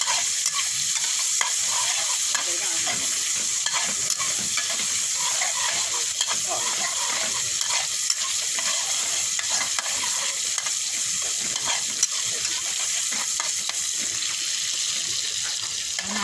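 Shallots and garlic stir-fry in a hot pan, a steady broadband sizzle with stirring scrapes running throughout at a consistent, fairly loud level, with no talk over it.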